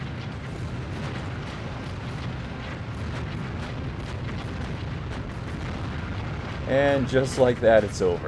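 Laser blasts and explosions from a tank in the N64 game BattleTanx, a dense, continuous rumble of blasts and booms throughout, then a louder burst near the end while someone speaks over it.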